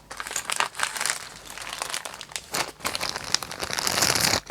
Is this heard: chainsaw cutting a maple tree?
no